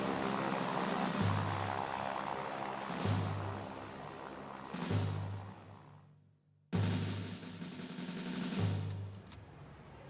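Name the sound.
group of aircraft flying over the city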